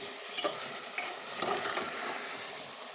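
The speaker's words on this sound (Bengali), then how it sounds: "ঢাকনা দিয়ে দিয়ে কষায় দিচ্ছি" Mutton braising in a pot with a soft steady sizzle, broken by a few light scraping knocks as it is stirred.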